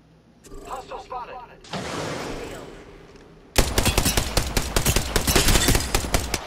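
Rapid automatic gunfire from Apex Legends, the battle royale video game, erupts in a loud, sustained burst of closely spaced shots after quieter game sounds and brief voice callouts.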